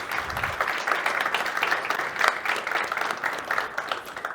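An audience claps in steady applause at a technical conference session on device administration, a dense, continuous patter of many hands filling the room with no talking over it.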